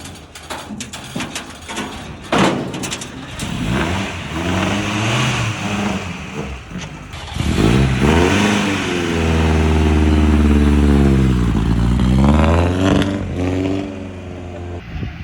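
An old Ford Cortina, a barn find left sitting in a shed for ten years, cranks and starts, then its engine idles and is revved repeatedly in rising and falling sweeps, loud and close.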